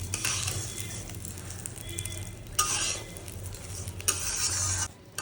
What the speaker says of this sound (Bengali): এবার এটা সব কিছু দিয়ে চালটাকে একটু ভেজে নেব।